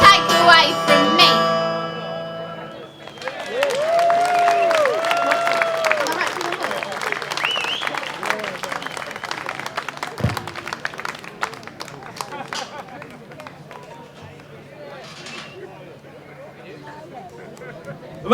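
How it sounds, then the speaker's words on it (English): An audience at a 40th anniversary celebration gives a round of applause after a performance, moderate clapping and crowd noise that follows a spoken, sung passage and continues at a steady level. "A round of applause for Harmony."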